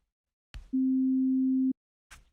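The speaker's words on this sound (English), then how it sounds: "all you can hear is the basic sine wave on operator 4" A single pure, steady sine tone from one operator of an FM synthesizer holds for about a second, clean and unwavering, framed by short soft clicks before and after.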